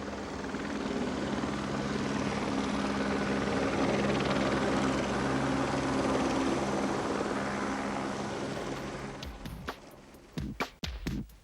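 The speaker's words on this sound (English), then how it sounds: "Our chopper is but feather touching the snow cap, with its rotor blades powerfully going." A helicopter's rotor throbs loudly and steadily as it touches down on a snowy ridge, then winds down into a few scattered knocks and clatters.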